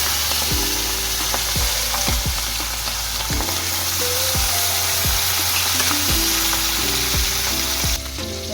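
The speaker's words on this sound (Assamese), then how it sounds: "মাছখিনি অৱশ্যে বেছি কৰকৰীয়াকৈ ফ্ৰাই কৰি ল'ব নালাগে, হাফ ফ্ৰাই কৰি ল'লেও হ'ব" Fish half-frying in a little oil in a wok, a loud continuous sizzle with repeated scraping strokes of a stirring spatula, no voices.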